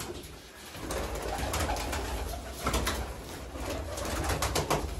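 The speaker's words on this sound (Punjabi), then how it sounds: "ਲਓ ਜੀ ਕਹਿੰਦੇ ਭਰਤਾ ਸਾਰਾ ਕਬੂਤਰਾਂ ਨਾਲ" Many pigeons cooing together in a crowded 12 by 12 loft, a steady layered chorus of soft throaty coos with wing flutters and shuffling, close and continuous throughout.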